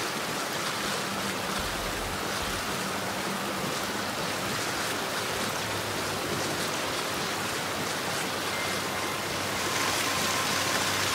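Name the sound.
waterfall in the video game Gears 5: Hivebusters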